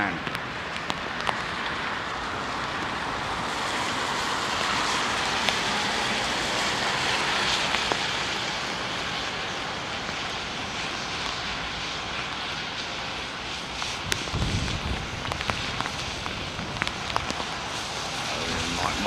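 Rain intensifying during a squall at London Heathrow Airport, a steady broadband wash of falling rain with aircraft engine noise mixed in and a brief low rumble near the end.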